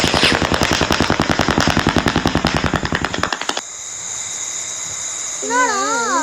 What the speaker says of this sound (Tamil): பட்டாசு வெடிக்க போகுது.